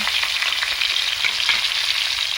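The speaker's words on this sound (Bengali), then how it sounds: "মুড়োগুলো একটু লাল লাল করে ভেজে নেব।" Fish heads frying in hot oil, a steady close sizzle with light bubbling crackle and no voices.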